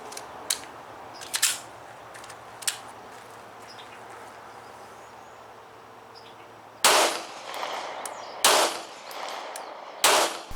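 A Canik TP9 SF Elite 9mm pistol firing 124 grain rounds at close range outdoors, a few faint distant pops followed by four loud, sharp nearby shots spaced unevenly, with no talking.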